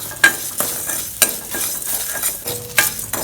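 Lentils dry roasting with salt in a pan, stirred with repeated scraping strokes of a spoon over a gritty rustle and light sizzle, close and fairly loud, with no talking.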